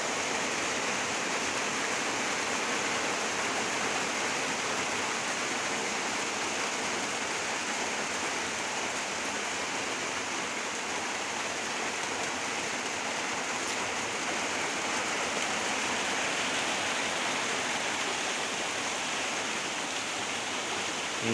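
Water pouring steadily at a farm water source collected from rainwater, a continuous dense rushing hiss, loud and unbroken from start to finish with no talk.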